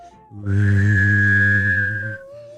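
A voice imitates a space sound effect, humming a low steady drone while whistling a sustained high tone over it, one loud close-up burst of about two seconds.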